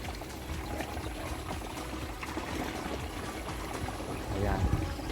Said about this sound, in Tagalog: naglalagay muna tayo ng tubig.